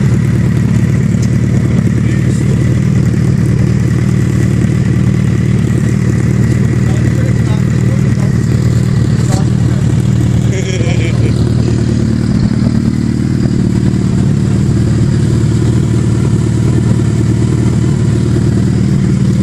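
A Bajaj Pulsar NS motorcycle engine runs loud and close for the whole stretch, a steady low rumble with mechanical clatter and slight rises in revs, with voices talking faintly in the background.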